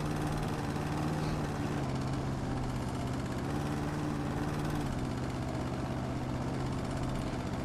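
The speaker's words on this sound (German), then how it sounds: "Ist auch ein viel schönerer Klang, finde ich, der Rasenmäher." A lawn mower in the video game House Flipper runs with a steady, continuous engine drone and a low humming tone throughout, constant and fairly close, with no talking.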